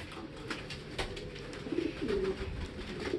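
A racing pigeon coos softly at a loft during a derby race, low throaty murmurs rising in short bursts over faint background rustle.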